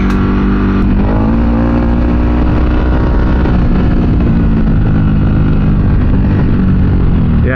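A Ducati Desert X motorcycle runs fast at about 60 mph over a potholed, rutted gravel road, its engine a steady loud drone with wind and road rumble throughout and no break in the noise.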